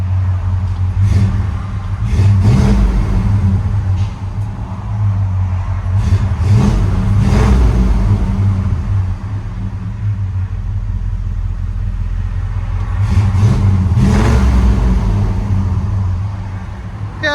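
A 1972 Chevy C10 pickup with a 350 V8, true dual exhaust and Flowmaster Super 44 mufflers revs repeatedly from inside the cab, a deep steady idle rumble swelling into several loud throttle blips.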